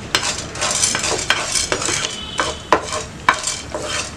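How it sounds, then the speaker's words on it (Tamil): Chana dal and urad dal dry-roast in a pan while a spoon stirs and scrapes them, a steady dry rustling broken by regular louder scraping strokes, close up with no voices. "இப்போ இதில் கடலைப்பருப்பும் உளுந்தும் நம்ம வறுத்துக்கலாம்."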